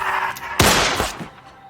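Gunshot in a film: one sharp, loud blast with a rumbling, echoing tail that fades within a second, amid quieter background sound.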